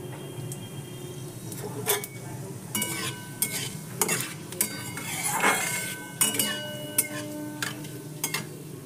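Panch phoron whole spices crackling in hot mustard oil in a wok, with steady sizzling broken by sharp clinks and scrapes of a utensil against the pan, close and fairly loud, no talking.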